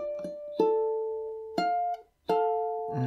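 A ukulele in re-entrant tuning is played fingerstyle on the opening bar of a Renaissance pavan, with a few close, soft plucked notes and dyads ringing and decaying one after another, with no talk.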